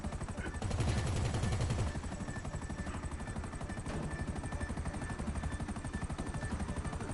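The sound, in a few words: helicopter in video game GTA Online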